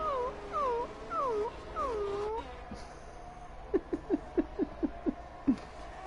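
A man imitates a whimpering puppy with his voice, a run of high falling whines followed by a quick series of short yelps, close and fairly quiet.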